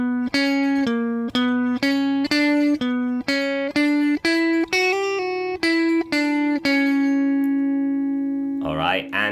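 Electric guitar plays an intro riff as a rapid run of picked notes over a steadily droning low note. The playing is loud, even and close, with a brief noisy burst at the end.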